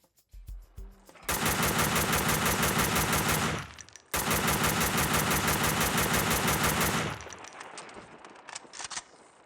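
M4 rifle in the Max Payne video game fires two long, loud sustained automatic bursts of several seconds each, separated by a brief gap, then trailing off into quieter scattered shots and echoes.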